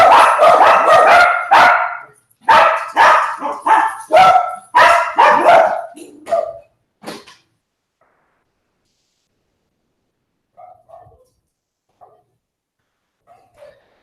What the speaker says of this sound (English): Sorry, dogs were upset.